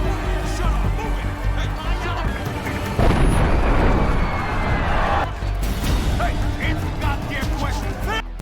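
A bomb goes off outside a plaza in a film, a loud broad blast swelling around the middle of the clip, with a voice speaking over it throughout.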